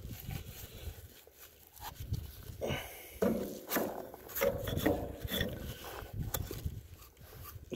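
A tractor steering spindle is scrubbed to clear dirt, rust and hardened grease, making close, irregular rubbing and scraping strokes of moderate, uneven loudness.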